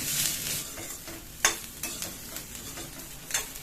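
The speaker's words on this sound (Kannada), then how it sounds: "ಎಣ್ಣೆ ಹಾಕೊಂಡು ಚವಳಿಕಾಯಿನ ಹಾಕೊಂಡ್ಬಿಡ್ತೀನಿ. ಫ್ರೈ ಮಾಡ್ಕೊಂಡ್ಬಿಡಿ." Cluster beans fry in oil in a pan, a moderate sizzle broken by repeated scraping and clacking stir strokes at an uneven rhythm.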